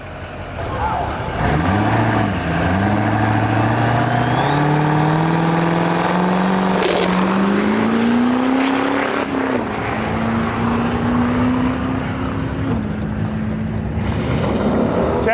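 A Duramax diesel engine in a Chevrolet Nova roars loudly, its pitch climbing steadily under load as it revs hard and sustains, with a faint background voice at moments.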